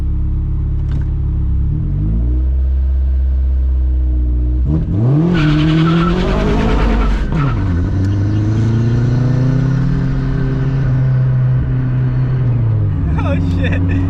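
A loud Nissan 350Z engine revs and climbs hard through the gears, roaring up in pitch with a brief tire-squeal texture, then holds a strained drone.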